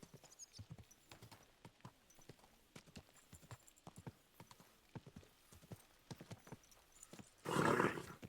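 Rhythmic clip-clop of a horse's hooves in the video game Kingdom Come Deliverance 2, a steady trotting beat at moderate distance, ending in a short loud burst of noise.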